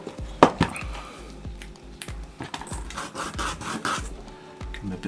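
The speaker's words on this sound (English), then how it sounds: "Give them a bit of a sand," Wooden lolly sticks being sanded by hand, with short rasping strokes at close range, irregular in rhythm, some sharper scrapes among softer rubbing.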